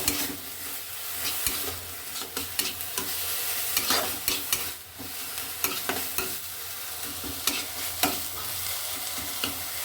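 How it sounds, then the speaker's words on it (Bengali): Food is stirred in a sizzling pan, with a spoon scraping and tapping the metal in quick irregular strokes over a continuous close frying hiss, no voices. "সামান্য সামান্য একটু নেড়ে নেবো"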